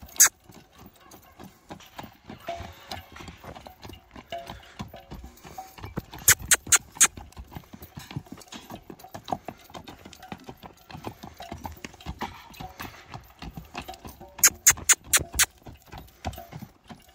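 Steady clip-clop of horse hooves on a hard surface, close by, with a few sharper bright clacks mixed in and quiet murmuring underneath.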